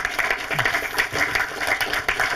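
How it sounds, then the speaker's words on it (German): Audience applause at a German film symposium panel, dense even clapping from a crowd filling the whole stretch, fairly loud and close. "es ist ein Applaus in Abwesenheit wert"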